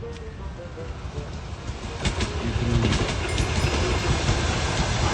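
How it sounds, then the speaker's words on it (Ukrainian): Two trains pass through a station platform, a steady rolling rumble with rail clatter building louder over the seconds, while someone speaks briefly over it. "Зафільмувати платформу з двома плюс поїздами."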